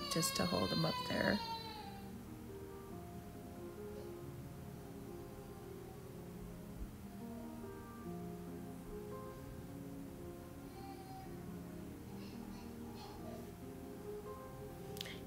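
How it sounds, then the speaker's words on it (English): A tired grandbaby cries and whimpers in the background, faint and intermittent, with a louder burst at the start while a person speaks in the foreground. "You may hear my grandbaby crying in the background."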